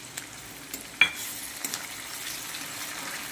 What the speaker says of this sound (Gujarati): તો હવે આપણે નાખી દઈશું ટમેટા।